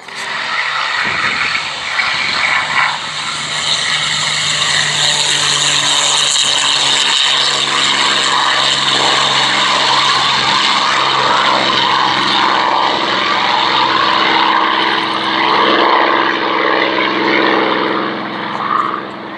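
A propeller plane with a 1,655-horsepower Merlin 70 series engine performs at the Shuttleworth Collection military pageant air show, giving a loud, steady, throaty engine roar that holds for nearly twenty seconds with slight swells and no talking.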